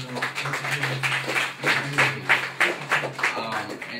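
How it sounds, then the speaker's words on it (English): Small audience gives Councilmember Berry a round of hand clapping, a few seconds of close, uneven claps in bursts, with a low hum under it. "let's give Councilmember Berry a hand clap"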